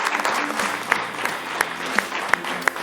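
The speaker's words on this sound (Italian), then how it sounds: "Un applauso e in bocca al lupo a Sestri." Studio audience applauding for the Sestri team on a local sports broadcast, a dense patter of clapping with a few sharper individual claps standing out, moderately close, with a faint murmur of voices underneath.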